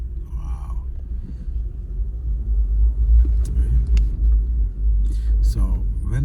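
A car drives on a snowy, icy road with a steady low engine and tire rumble throughout, loud and close, while people talk inside over it.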